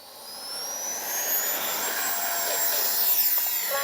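An E-flite Viper 64mm electric ducted-fan RC jet spools up for takeoff, a rising high-pitched whine that swells steadily and stays fairly close, with no voices over it.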